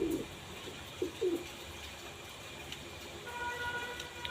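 A pigeon gives a few soft, brief coos early on, then goes quiet against a faint background hum, heard from fairly close with no one speaking.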